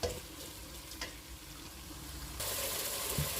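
Curry sauce being stirred in a pot as it cooks: a soft, continuous sizzle with faint scraping strokes, close and quiet, growing slightly louder and brighter near the end.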